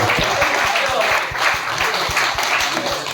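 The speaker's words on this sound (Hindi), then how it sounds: "आप लोग एक बार मेरे अनुरोध पर डॉक्टर विनोद त्रिपाठी जी के लिए जोरदार ताली बजाएं।" Audience applause fills a book launch ceremony hall, a dense steady wash of many hands clapping at close range, with a faint voice or two underneath.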